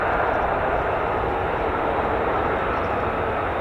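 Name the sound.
F-35 fighter jet taxiing at RAF Lakenheath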